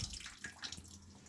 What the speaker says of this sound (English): turn the water supply on to see if it's coming from this pipe up into here